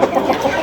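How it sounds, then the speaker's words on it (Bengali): Tiger Sasso and local desi chickens cluck in a brief burst of close, busy farmyard calls, with no voices over them. "দেখেন মুরগিগুলো কিন্তু অনেক সুস্থ সবল"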